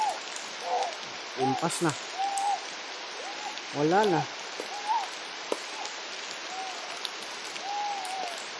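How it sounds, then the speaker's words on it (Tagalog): Dense, steady hiss of heavy rain pours down continuously, with several people talking and calling out over it. "ang lakas ng ulan mga idol"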